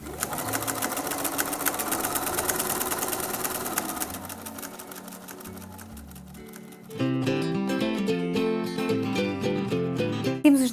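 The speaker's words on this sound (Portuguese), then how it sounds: "Os bracinhos, a mesma coisa, vamos costurar tudo em redor, não deixam abertura" Sewing machine stitching all the way around a stuffed toy's small fabric arms, a loud, steady rapid needle clatter that shifts in pitch and speed midway, with no one speaking.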